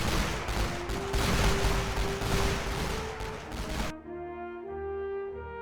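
Heavy artillery bombardment and dense gunfire from a Great War western front battle in Elite Great War fill the first four seconds as loud, rapid overlapping blasts, then give way to a quiet sustained tonal music bed.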